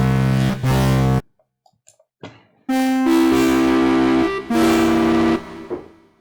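Fabrik synthesizer with its signal delay routed back into the pre-processing section, producing a feedback loop: loud, distorted, horn-like sustained tones in two long bursts separated by a near-silent gap with faint blips.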